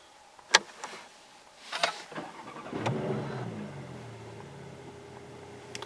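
A 2016 Porsche Panamera 4S with a 2.9 V6 starts up from inside the cabin: a few sharp clicks and chimes, then the engine catches and settles into a low, steady idle rumble.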